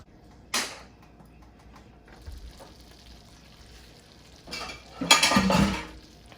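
Slit chili peppers cook in a pan for an Ethiopian shiro dish, a low steady sizzle with occasional utensil scrapes and a louder stirring clatter near the end.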